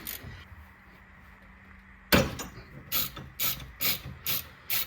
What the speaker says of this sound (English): I'm gonna use a ratchet with an extension